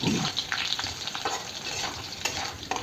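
Fried potatoes and chopped onion sizzle in oil as they are stirred, a close, busy crackle with scraping, and no voices.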